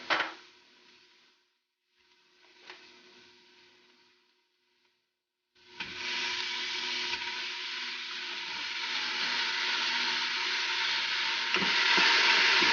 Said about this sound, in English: We're going to throw in the ground beef here now that the